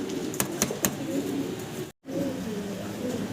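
Pigeons in a loft, including a white one, give low throaty coos in a steady rolling rhythm. A few sharp clicks come early, and there is a brief dropout midway.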